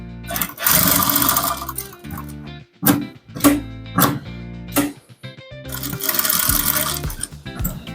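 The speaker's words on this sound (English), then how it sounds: "So gently stitch all through to this very point, then lock the up point," A sewing machine stitches a trouser pocket in short bursts, its rapid mechanical clatter starting and stopping several times with quiet gaps and small handling knocks between runs.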